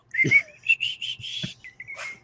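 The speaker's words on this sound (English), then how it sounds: "That whistle kills me. That whistle every time." Whistling from an animated cartoon episode: a series of clear, high whistled notes, some short and some held, in quick succession over about two seconds, with faint low thumps underneath.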